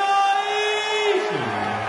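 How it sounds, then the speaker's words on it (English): A darts crowd at the Dubai Duty Free Darts Masters erupts in a loud roar of cheering and whooping after a 170 checkout, a dense burst of many voices that stays strong for the whole moment. "With the crowd going"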